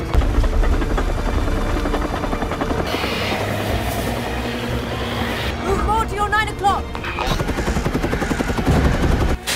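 A helicopter lifts a sarcophagus in a scene from The Mummy (2017), a loud continuous rotor thrum under a busy movie soundtrack with bursts of gunfire-like cracks, mechanical noise, and brief high squeals partway through.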